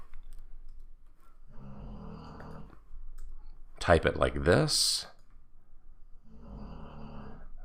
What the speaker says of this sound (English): I apologize for my dog snoring again.